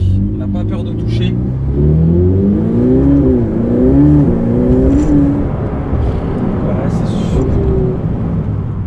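A Ferrari 488 Pista engine revs and pulls while driving, a steady close rumble rising and falling in pitch, with someone talking over it throughout.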